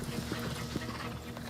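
Horses' hooves clip-clop in a steady, overlapping rhythm, moderately close and unbroken by talk, like mounted riders moving together at a walk.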